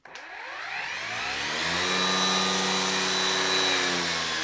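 A Makita cordless brush cutter motor winding up from rest, its whine climbing in pitch over the first second and then holding a steady, fairly quiet high-pitched drone, running alone without talk.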